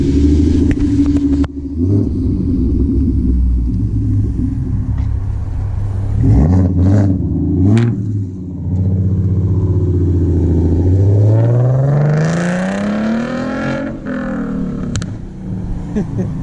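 A V6 Mustang with an aftermarket exhaust idles with a loud, close rumble, then revs up in rising sweeps and settles back down several times, its burble steady and throaty throughout.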